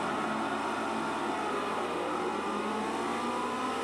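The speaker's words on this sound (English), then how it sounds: "So we are here racing in my semi-upgraded Ferrari 360 Modena here on Circuit de Barcelona-Catalunya." Steady, dense engine drone of a semi-upgraded Ferrari 360 Modena racing at Circuit de Barcelona-Catalunya in Forza Motorsport 4, held at high revs throughout without breaks or talking.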